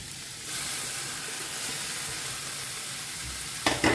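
Tomatoes and onions frying in a pan, a steady close sizzle and hiss that rises slightly after the start, with a brief clatter of stirring at the end.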